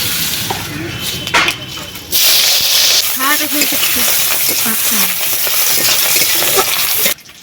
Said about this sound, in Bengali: তেলের মধ্যে দিয়ে দিচ্ছি পাঁচ ফোড়ন আর এই যে পুকুরের চিংড়ি